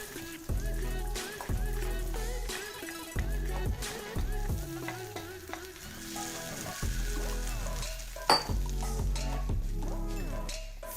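Corn kernels sizzle and get stirred in melted butter in a pan for green chili cheese corn, with repeated scraping strokes and crackling frying noise, fairly close and steady, no talking.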